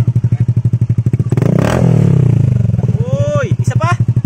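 Honda Beat FI scooter fitted with an Akrapovic full-system exhaust and no silencer, revving loud and bassy up close, rising into a sustained roar before settling back to a throbbing idle, with people talking over it.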